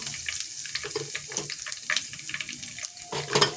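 Whole dried chillies, garam masala, cumin, cardamom pieces and cloves crackle in a pan as they are stirred, with irregular scraping and sputtering bursts up close and no voices.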